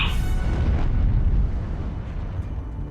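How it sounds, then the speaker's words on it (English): A huge shipboard explosion tears the battlecruiser Hood in two, a loud, deep rumbling blast that holds strong and slowly fades over about three seconds, with no voices. "Within mere seconds, an enormous explosion broke Hood in 2 parts."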